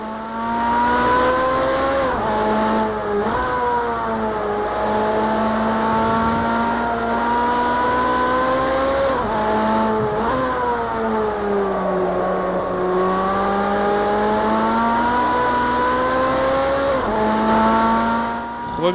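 A Ferrari race car in Project Cars 2 laps Watkins Glen: a loud, close engine wails continuously, its pitch rising through the revs and dropping sharply at each gear change or braking point, with faint tire scrub underneath.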